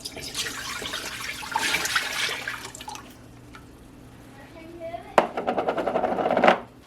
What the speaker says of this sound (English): I'm going to put the juice into the thick bottomed